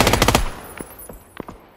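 Bursts of rapid automatic gunfire in a video game battle on a hillside, a tight volley of loud shots followed by a few scattered, fainter single shots.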